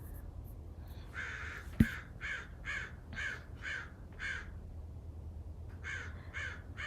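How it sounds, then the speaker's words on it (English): A crow caws repeatedly outside a dorm room, a steady run of harsh calls at an even pace with a short break near the end, heard from a moderate distance over faint room hum and one sharp knock. "This crow is driving me crazy"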